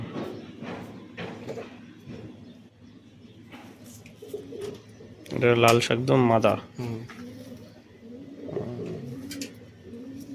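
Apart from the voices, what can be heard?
pigeons cooing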